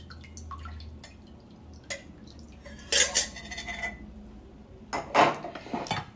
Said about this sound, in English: All right, and you're going to strain it.